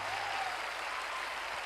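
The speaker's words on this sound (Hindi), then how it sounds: "जोरदार तालियां बजाइए दोस्तों।" An audience at a network marketing motivational talk applauds in a dense, even wash of clapping, steady and moderately loud throughout a brief stretch.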